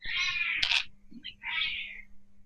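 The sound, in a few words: cat meowing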